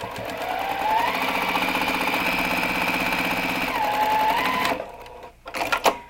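A sewing machine runs at a steady close whir while stitching pinned fabric pieces for a quilt block, slowing briefly mid-run, then stops, followed by a few soft handling clicks.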